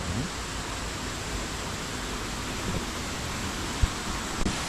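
A mountain stream beside a Buddhist temple with a cave shrine hall in Jecheon flows in a steady, even broadband rush, with a few faint knocks and thuds near the end.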